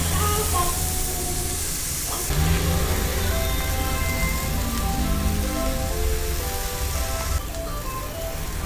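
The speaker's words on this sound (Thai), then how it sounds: "วันนี้จะย่างในกระทะนะครับเพราะว่าตาผ่านผมพังจะค่อยย่างไปจนกว่าจะสุกนะครับผม" Pork with holy basil leaves grills in a pan, giving a loud, steady rain-like sizzle and hiss that lasts throughout.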